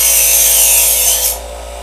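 An electric sharpener grinds a chef's knife blade during coarse sharpening, a loud continuous abrasive rasp that holds steady, then eases off as the blade is drawn through to the end.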